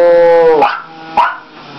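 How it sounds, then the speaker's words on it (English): A dog gives two loud, close barks about half a second apart, the first preceded by a drawn-out whine, then quiet. "He's barking at the tea"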